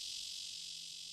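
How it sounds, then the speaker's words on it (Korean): Cicadas sing in a summer forest on Hallasan, a dense, steady, loud buzzing drone that holds without pause throughout. "매미 울음소리와 함께 본격적인 무더위가 시작됐습니다."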